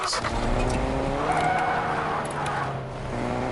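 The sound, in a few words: Fortnite Taxi car driving, video game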